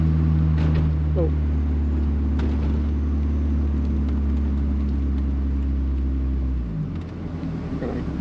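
A 1997 Mazda Miata rolls over speed bumps with a loud, steady low engine drone that dips and shifts near the end as the car slows.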